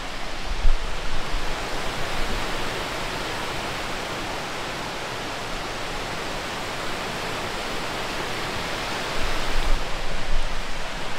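Loud, constant rushing water fills the air at a spring lake in the Ozarks, a dense steady roar with slight surges near the start and end, no voices.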